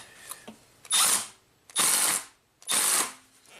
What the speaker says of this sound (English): So we're going to put this air hose back in and tighten these clamps down.